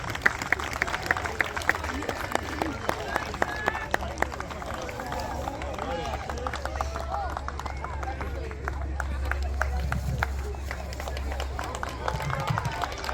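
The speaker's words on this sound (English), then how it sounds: "A round of applause for Elijah Preston" Crowd at the Dalles Little League opening ceremonies claps steadily throughout, a dense patter of hands spread over an outdoor field, with murmuring voices and some talk mixed underneath.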